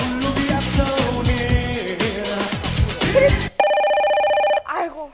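A telephone bell rings loudly in a short sustained burst after lively music with a strong beat, then a brief tonal blip follows as the ring cuts off.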